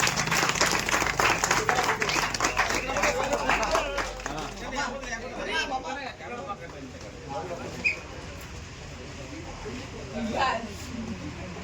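Crowd applauding and cheering at a felicitation during a palkhi procession, with dense clapping strongest early, then thinning into scattered claps under chatter and voices.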